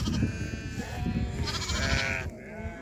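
A large flock of sheep and goats grazing in a jungle bleats loudly and continuously, many overlapping calls near and far forming a dense chorus.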